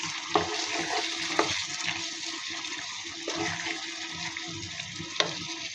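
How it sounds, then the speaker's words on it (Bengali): Boiled beef tripe fries in a pan with a steady low sizzle, broken by a few sharp scrapes as it is stirred. "তো একেবারে ভাজা ভাজা করে নিব।"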